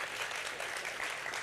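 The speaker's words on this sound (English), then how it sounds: "I think a round of applause for Maurice." An audience applauds at a film Q&A, a short burst of dense, even clapping from a room full of people, moderately loud and continuous.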